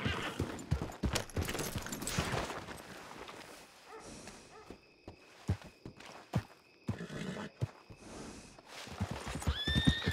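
A horse in the video game Red Dead Redemption 2 whinnies loudly near the start, followed by clopping hooves, scattered thuds and a brief high-pitched squeal at the end.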